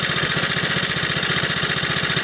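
A Briggs & Stratton 2hp small engine with a broken fan blade runs steadily at idle, a close, even thudding putter with a slight rattle throughout.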